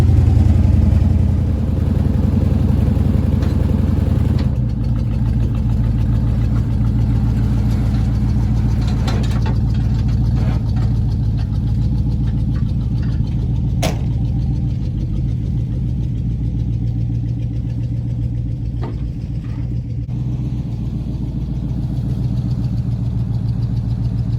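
A 1974 square body truck engine runs close by, a steady low rumbling idle that shifts slightly as the truck pulls forward off the snow plow, continuous throughout.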